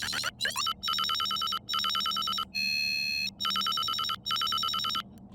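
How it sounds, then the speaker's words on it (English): Synthesized electronic telephone ring with a buzzy, rapidly trilling tone, repeating in several short bursts separated by brief gaps, loud and close. "it's kind of how you get that like telephone ringing sound."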